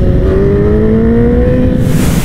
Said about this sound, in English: For those of you guys who don't know, this is the 2002 Gixxer from hell.